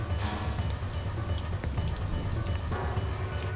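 Steady rain falls heavily, a dense continuous patter of drops hitting surfaces nearby with no pauses.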